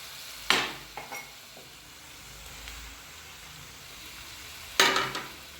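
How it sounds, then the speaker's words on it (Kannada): Tomatoes frying with half a spoon of garam masala for a beetroot curry: a steady low sizzle with two sharp scraping stirs of a spoon against the pan, close and moderately quiet. "ಟೊಮೊಟೊ ತುಂಬ ಮೆತ್ತಗಾಗಬೇಕು, ಅಲ್ಲಿವರೆಗೂ ನಾವು ಫ್ರೈ ಮಾಡ್ಕೊಳ್ಳೋಣ"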